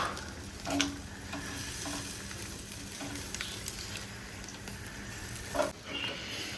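Garlic-stuffed pork intestines sizzle steadily over a charcoal grill, a continuous close hiss and crackle with a couple of brief louder pops as they are turned.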